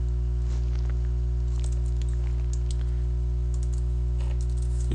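Code being typed on a computer keyboard gives soft, quick key clicks in irregular bursts over a steady electrical hum, close and fairly quiet, with no voices.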